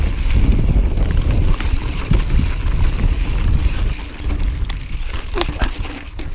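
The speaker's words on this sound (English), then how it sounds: "As you can hear with the wind, it can be fairly windswept" Strong wind buffets the open summit of a mountain bike trail near Oil Well Flats, Cañon City, Colorado, a loud steady low rumble with gusty swells throughout and no voices.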